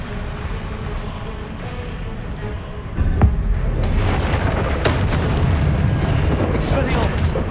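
A Revelio spell cast in Hogwarts Legacy bursts out as a loud magical boom partway through, followed by shimmering crackles and whooshes over a steady rumbling game background.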